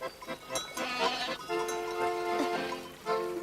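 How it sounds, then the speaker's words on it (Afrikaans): Goats bleat repeatedly across the hillside opposite, drawn-out wavering cries overlapping one another at moderate distance, with faint bell-like clinks mixed in and little other noise between calls. "daar oorkant is so waar bokke."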